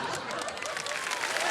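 Applause from the studio audience of the quiz show Kaun Banega Crorepati, a dense, steady wash of clapping filling the room at a moderate distance with no break.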